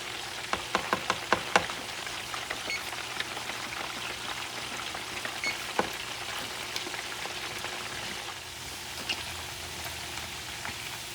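Plantains for mofongo fry in hot oil with a steady, rain-like crackling sizzle that runs throughout, with scattered louder pops and spits, especially early on, and no talking.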